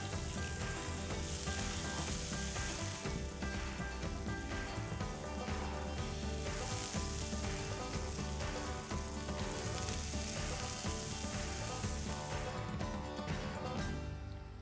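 Dough pie frying in oil over medium heat for a Greek dish from Ioannina, giving a loud, steady, crackling sizzle that holds evenly throughout with no voices.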